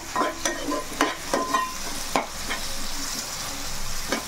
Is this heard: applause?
no